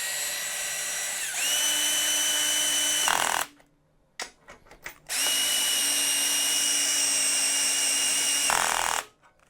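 A power tool with a Torx T40 bit drives a bolt while fitting a Wunderlich tank protection bar to a BMW motorcycle, giving two loud, steady whirring bursts of about three and four seconds with a short pause between them.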